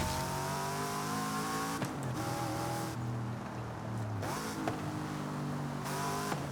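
Drift car in the Forza Horizon 5 racing game, engine revving steadily with a harsh, growling tone, pitch rising and dropping through several throttle swings, loud and continuous with no voices.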